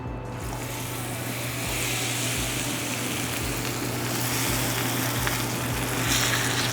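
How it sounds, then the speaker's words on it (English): Lamb chops sear in a hot pan with a steady, dense sizzle and a low hum underneath, holding at an even volume throughout without any voices. "I'm gonna go ahead and land our lamb on this side down."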